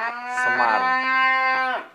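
Jumbo sacrificial qurban cattle, bulls weighing over a ton, let out one long, loud, close moo lasting nearly two seconds with no talk over it.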